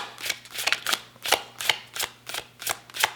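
Tarot cards are shuffled in a steady rhythm, with about ten crisp riffling bursts close to the microphone and short pauses between them, and no talk.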